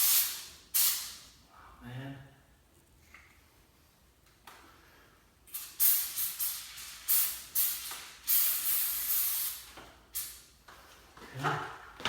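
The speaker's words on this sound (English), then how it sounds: "Just want to spray some on it." Aerosol lubricant sprayed onto a squeaking garage door in several short hissing bursts, close and fairly loud, with someone speaking briefly between them.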